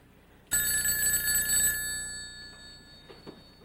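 A telephone bell rings loudly in a late-1970s soap opera scene, one sharp metallic ring that begins abruptly and trails away, followed by faint movement.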